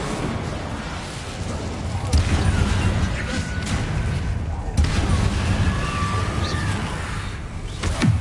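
Fiery Incendio, Confringo and Bombarda spell blasts from Hogwarts Legacy, a dense, continuous roar of explosive booms and crackling impacts with sharp bursts near two and five seconds, under a speaking voice.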